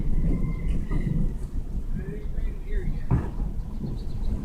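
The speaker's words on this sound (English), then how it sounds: "That's freaking thunder." Thunder rumbles low and continuously during a storm with strong wind, a deep, rolling roar with a sharper crack near the end, as faint indistinct voices murmur in the background.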